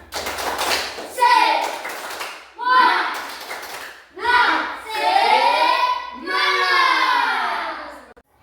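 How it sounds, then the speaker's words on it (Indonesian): A group of children claps a rhythmic spirit cheer in a classroom, short bursts of clapping alternating with chanted voices in a patterned sequence. "Tepuk semangat."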